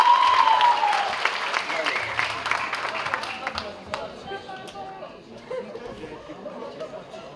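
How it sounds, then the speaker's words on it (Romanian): An audience at a high school ball applauds loudly at first, then the clapping thins out and fades into scattered claps and crowd murmur. "Aplauze, vă rog!"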